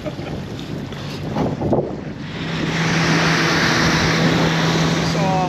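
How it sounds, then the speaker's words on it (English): Wind buffeting a boat on Lake Moultrie, South Carolina, a loud steady roar against the microphone that swells stronger halfway through, over a low engine hum and faint voices. "We've got a little bit of wind that's creating some ripples."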